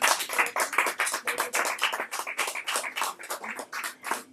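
Applause from a small audience at an evening talk in a café venue, heard as distinct, fairly close hand claps in a quick, uneven rhythm throughout.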